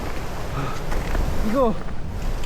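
Strong gusting wind on the Seoraksan mountain ridge roars steadily across the microphone in a harsh, buffeting rush, with a brief spoken exclamation over it.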